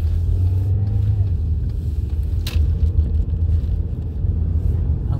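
An older Volkswagen Golf engine with a dirty throttle body and a holed air intake pipe runs hard at full power, a loud, steady, close rumbling drone throughout, with faint voices underneath.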